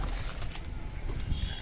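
Pigeons coo softly as they are let out in the evening, a low, murmuring coo close by over a steady background hum, with a faint rustle now and then.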